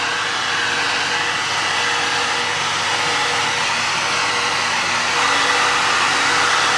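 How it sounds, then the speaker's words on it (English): A heat gun blows steadily on fresh wall plaster patching a hole, a continuous close, loud whooshing roar that holds even for the whole stretch with no one speaking. "And now we put the heat gun on again to speed it up"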